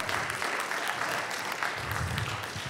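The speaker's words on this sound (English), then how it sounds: "Give the Lord a hand clap this morning." Congregation at a church service clapping together, a steady dense patter of many hands that stays loud and continuous throughout with no voices standing out.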